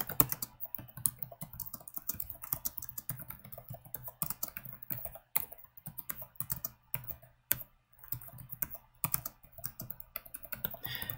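Someone types on a computer keyboard in quick, uneven bursts of sharp clicks with short pauses between, close to the microphone and with no talking.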